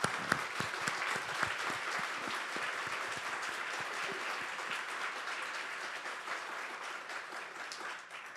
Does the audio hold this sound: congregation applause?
yes